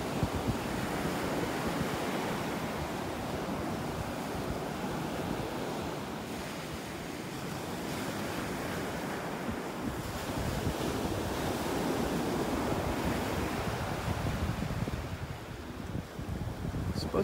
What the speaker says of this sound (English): Love the sounds of those waves.